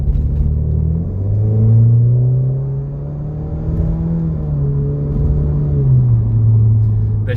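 Alfa Romeo Giulia Quadrifoglio engine accelerating, a loud, close rumble whose pitch rises and falls through gear changes over several seconds.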